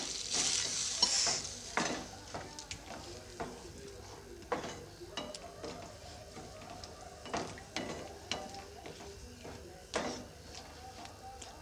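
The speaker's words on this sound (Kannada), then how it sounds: "ಇವಾಗ ನಾನು ಒಂದು ಅರ್ಧ ಲೋಟದಷ್ಟು ನೀರನ್ನು ಹಾಕ್ಕೊಳ್ತೀನಿ" Half a glass of water goes into pineapple gojju in a pan, giving soft splashing and stirring scrapes. Intermittent spoon clinks and stirring sounds recur throughout, close and moderate in level, with no talk.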